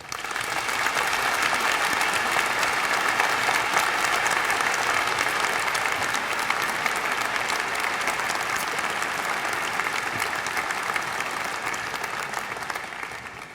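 A large audience at the University of Washington's 2011 freshman convocation claps in sustained, even applause for over thirteen seconds, a dense wash of hands with no talking.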